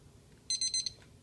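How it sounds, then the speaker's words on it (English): A kitchen timer goes off with a quick burst of rapid high-pitched electronic beeps, short and clear against a quiet room. "Timer's about to go off."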